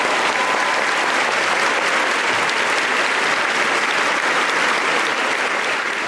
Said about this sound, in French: Un fort applaudissement pour ce Dieu vivant